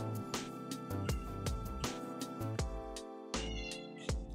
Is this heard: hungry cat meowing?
yes